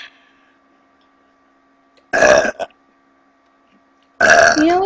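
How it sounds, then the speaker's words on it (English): Two loud, drawn-out burps from girls, the first about half a second with a brief gulp after it, the second starting near the end of the clip, separated by near silence. "You know I was burping."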